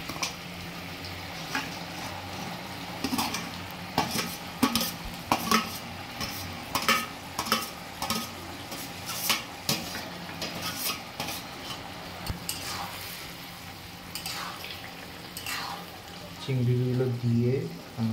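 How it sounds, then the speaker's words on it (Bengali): Fried prawns tipped into a simmering pan for prawn chilli and stirred, with repeated metallic spatula clanks and scrapes over a low bubbling sizzle, close by and ending in a louder burst of clatter. "এবার মা ভেজে রাখা চিংড়িগুলো এতে দিয়ে দিচ্ছে"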